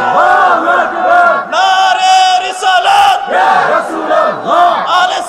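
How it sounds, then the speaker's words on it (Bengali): A large crowd shouts a takbir chant in repeated loud, unified bursts at a Bengali religious sermon gathering, with the massed voices rising and falling together in waves. "বাবা তকবীর, জোরে তাকবীর, জোরে"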